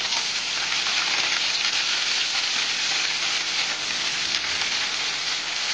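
Large-cut onions sizzle in hot oil in a pan, a steady, close, bright hiss that holds evenly throughout with no voices.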